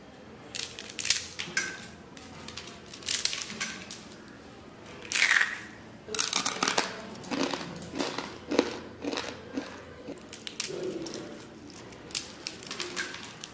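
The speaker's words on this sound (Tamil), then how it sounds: "நல்லா கடிக்கும் போது மொறுமொறுன்னு இருக்குது" Crisp crunches of someone biting and chewing fried murukku snack, a series of sharp irregular bites spread across several seconds, close and fairly quiet with no talking.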